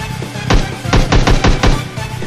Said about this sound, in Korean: 유인 총소리 한번 내볼까?